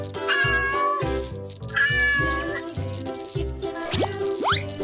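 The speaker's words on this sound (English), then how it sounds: "Cat." A cartoon cat meows several times in a playful children's animal scene. The short, bright meows repeat over a bouncy, rhythmic music track, with springy boing-like effects near the end.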